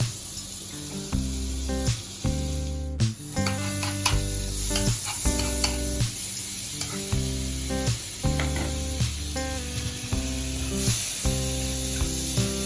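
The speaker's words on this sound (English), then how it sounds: "And now just mix it a little, let the butter melt." Butter melting and sizzling in a pan, a loud close crackle running under an irregular pattern of bright, tonal scraping and clanking as it is stirred, with no talking.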